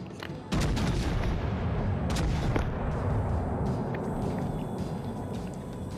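Warship guns firing in World of Warships: Legends, a sharp blast followed by a long rolling rumble and a few further distant reports.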